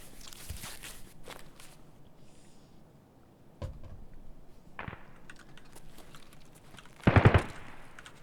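Gunfire in Single Player Tarkov, a few scattered sharp reports early on, then a louder, close burst of rapid shots near the end, with quiet ambient game noise between.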